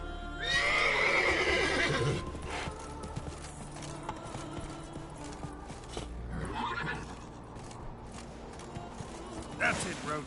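Roach the horse in The Witcher 3 lets out a loud whinny near the start, then gallops on with steady hoofbeats and faint tack creaks, with a second neigh later and another brief one at the end.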